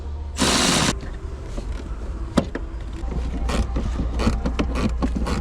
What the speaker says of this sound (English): I'm taking out all the bolts on top.